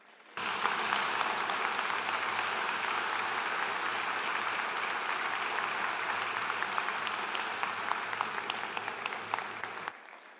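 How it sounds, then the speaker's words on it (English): A large commencement crowd gives a keynote speaker a sustained round of applause, dense and steady for about nine seconds before stopping abruptly. "Please join me in giving one more round of applause to our keynote speaker, Katie Marsh."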